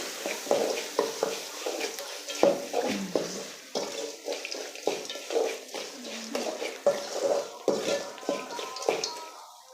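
Ground gooseberry is stirred into fried onions in a pan, with a spoon scraping and clacking in a steady back-and-forth rhythm over a soft sizzle, heard up close.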